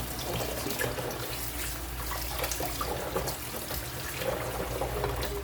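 Tap water runs steadily into a sink while small dried danggit fish are rinsed and cleaned for paksiw, a continuous close splashing with light handling sounds and no talk.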